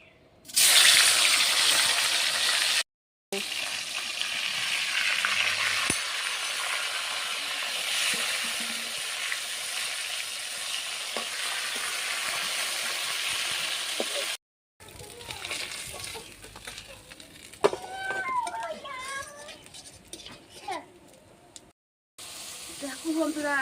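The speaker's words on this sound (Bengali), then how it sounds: "এবার একে একে করে মাছটা ভেজে নিই।" Bata fish fries piece by piece in oil in a kadai, giving a hissing, bubbling sizzle that rises and falls over several stretches, with a voice talking at times.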